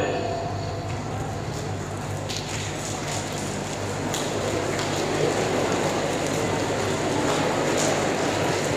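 An audience at a youth summit pats and rubs their hands to mimic falling rain, making a dense, steady hiss of many small taps that swells slightly toward the end, with no talking.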